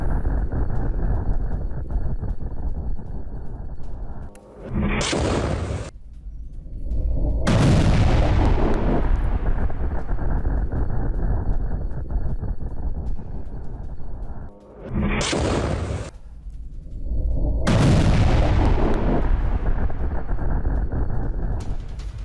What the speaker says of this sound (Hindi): सेंट्रल गाजा के नुसीरत कैंप में बरसी मिसाइलें